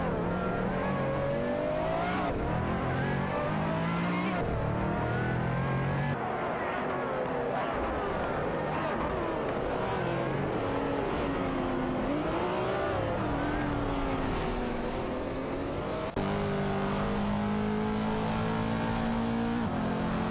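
Race cars in a racing video game, among them a Lamborghini Asterion, rev and drone loudly in overlapping engine tones that climb and fall, with abrupt cuts between scenes and continuous roar throughout.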